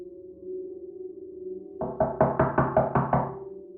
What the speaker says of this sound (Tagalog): Hindi nagtagal ay narinig nilang may kumatok sa pinto.